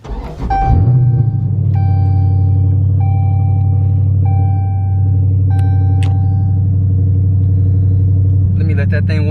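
A Dodge Challenger Scat Pack's engine idles loud and close with a deep steady rumble, holding constant through the clip with a slight rise near the end as the car is moved.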